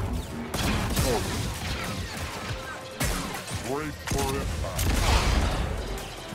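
Droids firing blasters in Star Wars Jedi: Survivor: sharp crashing bursts and zapping shots layered with chirping mechanical droid sounds and talk, fairly loud and busy.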